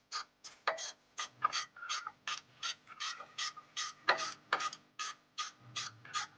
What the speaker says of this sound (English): Now we're going to use a ratcheting wrench to go ahead and get the bolt the rest of the way out.